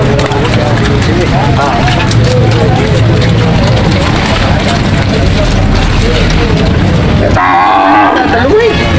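Loud, drawn-out mooing from buffalo close by over a busy livestock market din, with people talking throughout.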